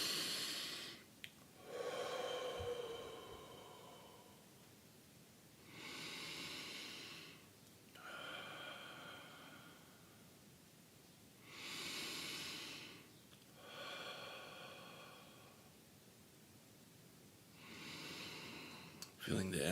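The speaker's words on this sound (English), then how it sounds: "breathing in through the nose and then out through the mouth" Slow meditative breathing, drawn in through the nose and let out through the mouth, with several airy breath cycles in a steady rhythm, close and fairly soft, separated by quiet pauses.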